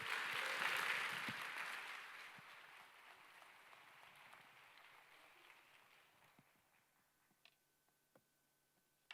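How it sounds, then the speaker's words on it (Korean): Church audience applause welcomes a pastor to the pulpit, loud and dense at first, then thinning out and fading over several seconds to a few scattered claps. "우리 나오실 때 박수로 모시겠습니다."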